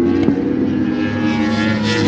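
Motorcycles race around a track, heard as a steady, continuous engine drone at some distance with no clear pass-by peaks and no talking.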